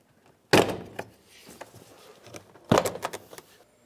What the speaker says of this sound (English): we're going to start separating the door panel from the door